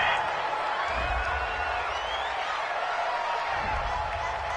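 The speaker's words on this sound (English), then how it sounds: "This home crowd, they're happy with that call." A home crowd in the football video game Madden 20 cheers a referee's call, a steady wash of distant stadium roar with faint whoops, continuous under a low background murmur.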